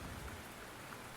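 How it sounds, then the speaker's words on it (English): Steady rain patters at night on a Subaru Legacy B4 near Mt. Fuji, heard from inside the car as a faint, even drumming hiss with no voices. "Rain is non-stop."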